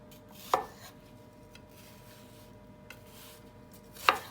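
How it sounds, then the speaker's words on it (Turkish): Two sharp knife chops on a cutting board as an onion is diced, quiet and several seconds apart, with faint soft taps in between. "İlk etapta soğanı doğrayalım hemen şöyle."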